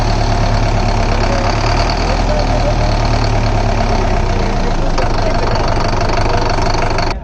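Sonalika 75 hp CRDI tractor diesel engine revving up close, a loud, continuous knocking rumble held steady for about seven seconds before cutting off abruptly.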